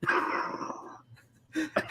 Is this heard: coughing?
yes